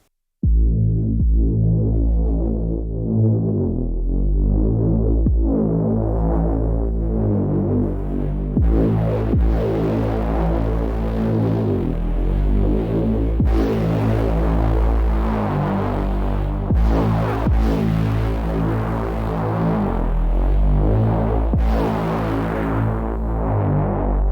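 A deep Wave Alchemy Bassynth bass patch plays a throbbing sequence of low notes, its tone shifting and brightening as the macros are tweaked, with no voices.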